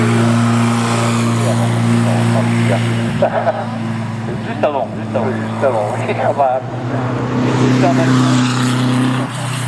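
A Renault 5 Turbo 2 rally car idles with a steady low engine drone at a national hill climb, with someone talking over the continuous rumble throughout.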